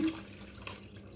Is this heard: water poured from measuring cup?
yes